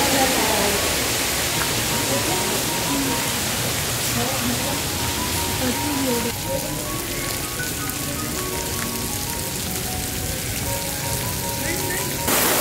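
Saavan Bhado fountain at Saheliyon-ki-Bari garden in Udaipur, water spraying down like steady rain, a constant hiss of droplets pattering on surfaces, with faint voices and bird calls mixed underneath.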